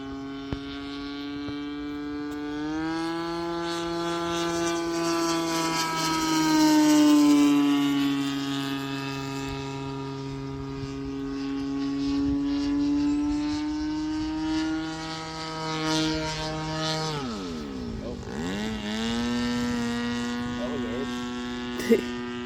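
RC model biplane with a small propeller droning steadily in flight, its engine pitch rising and falling as it passes, dipping sharply near the end before recovering; continuous and fairly loud.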